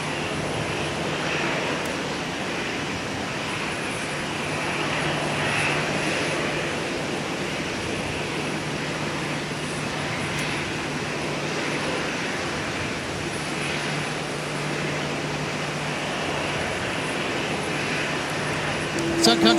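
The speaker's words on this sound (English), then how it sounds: "Sun Country 681 with another 737-800 taking off on the north-south runway" A Sun Country Boeing 737-800 jet roars steadily while taking off from a runway at Minneapolis–St. Paul airport, a continuous moderately distant engine rumble with someone talking over it.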